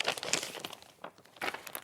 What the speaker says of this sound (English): I have just literally put her onto a plastic bag.